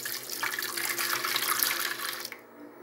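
Milk poured into a measuring jug while making creamy tapioca couscous, a steady continuous liquid splash and gurgle filling the vessel for a couple of seconds, then cutting off abruptly near the end.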